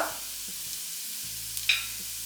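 Onions sautéing with turmeric and garam masala for paneer biryani, a soft, close sizzle with a few light scraping stirs and taps in the pan.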